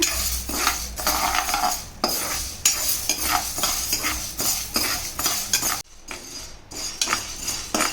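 A spoon scrapes and stirs dry black gram (urad dal) around a hot pan over low flame, roasting it brown, with steady rustling and clinks, a faint sizzle underneath, close up.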